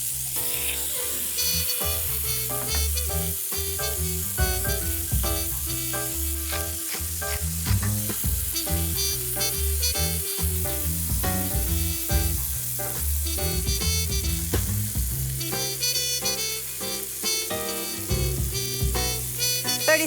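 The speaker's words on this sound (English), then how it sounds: "Can you hear the sizzle?" Meat sears in a hot pan with herbes de Provence, giving a loud, continuous close-up sizzle with crackling pops over background music for the full twenty seconds.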